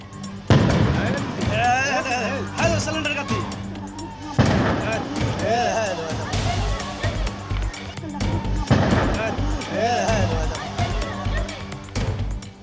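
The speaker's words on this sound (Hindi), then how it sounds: "नोनिया पट्टी मोहल्ले में रह रहकर धमाके की आवाज गूंज रही है।" Repeated blasts from gas cylinders bursting in a residential neighbourhood fire, deep booms recurring at intervals over a continuous roar of crackling flames and commotion, with voices heard throughout.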